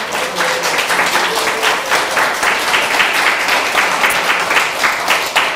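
A church congregation claps during a Sunday worship service, dense, even applause sustained throughout at fairly strong level, with a little murmuring underneath.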